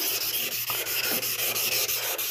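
Suehiro water sharpening stones are rubbed flat against each other in a steady back-and-forth gritty scraping, about a dozen even strokes, loud and close with no talk.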